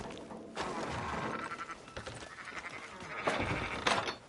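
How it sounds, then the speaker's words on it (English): Sheep bleating in the Red Dead Redemption 2 video game, a few wavering bleats over a steady busy background. "Fine sheep."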